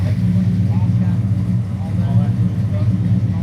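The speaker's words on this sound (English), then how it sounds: "Race car." A race car engine drones loudly and continuously at close range, a steady low rumble with no clear revving, while voices talk over it.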